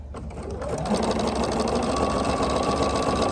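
A sewing machine starts up and runs in a steady, fast whirring drone as it stitches through a quilt block, sewing over thin pins, close and constant with no pauses.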